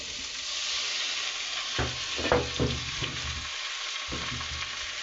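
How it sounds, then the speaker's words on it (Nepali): Chopped potato and snake gourd fry steadily in a pan with a constant close sizzle, broken by several scraping stirs and brief pauses. "यतिको रातो भइसकेपछि हामी यसमा एड गर्छौं यो काटेको तरकारी।"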